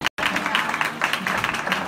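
Dense, sustained clapping from a church congregation at an outdoor worship gathering in Ludhiana, a brief steady burst of applause after a short silence.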